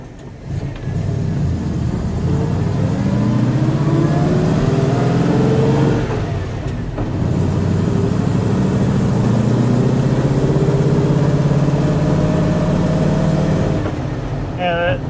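A V8 car engine drones loud and close while driving at road speed, its pitch rising and falling as it pulls and settles, with a brief dip partway through, inside the cabin.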